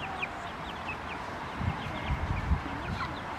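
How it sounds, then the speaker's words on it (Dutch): Chickens and young chicks clucking together in a coop, soft high chirps scattered over a steady low rumble of background noise with no talk. "Ze worden mooi, die kuikentjes."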